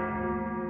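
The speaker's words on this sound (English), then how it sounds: "And a bell tolls," A church bell tolls in a cathedral setting for an audio drama, a sustained, resonant ringing tone that fills the whole short clip loudly and alone.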